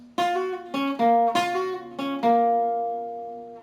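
Electric guitar playing a riff on the upper strings, about six picked notes with a hammer-on in a steady rhythm, close and clear, the last note ringing out alone.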